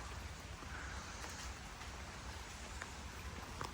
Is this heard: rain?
yes